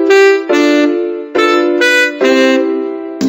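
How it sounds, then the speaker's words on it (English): Saxophone in a Mickey Mouse Clubhouse musical maze game, playing four sustained, bright reedy notes back to back at steady pitch, close and loud with no voices over them. "A saxophone sounds like this."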